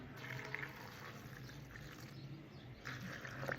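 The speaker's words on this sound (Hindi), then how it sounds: "आधा गिलास पानी डाल रहे हैं।" Half a glass of water is poured into a cooking pot while making the Balti dish prapu, giving a short, steady splashing pour that runs for a few seconds at close range with no talk.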